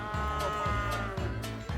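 Cattle at a large livestock market in Rongjiang, rural China, low mooing calls repeating in steady succession, several drawn-out lowing notes close by and fairly loud, with no talk.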